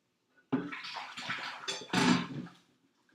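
Water running into a kitchen sink and splashing, in two close, loud bursts lasting about two seconds before cutting off.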